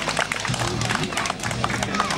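A crowd at a village festival award ceremony in Csengele, Hungary, claps in dense, steady applause, close and lively throughout, with voices murmuring underneath.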